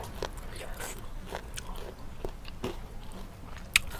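Crispy pork skin being bitten and chewed, served with a spicy Thai noodle salad, gives soft repeated crunches at close range that build to one sharp bite near the end, with no talking.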